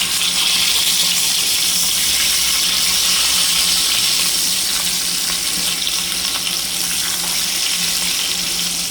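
Koi fish frying in a generous amount of hot oil, turned to cook the second side, gives a steady, loud, dense sizzle that holds without break for the whole stretch, with no voices.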